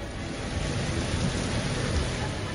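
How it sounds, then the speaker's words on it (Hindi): Heavy downpour during a rainstorm in Hafizabad, a steady dense hiss of rain with low rumbling underneath, continuous and loud throughout with no talking. "हाफिजाबाद में बादल ऐसे बरसे कि सड़कें और गलियां नदी नाले बन गए।"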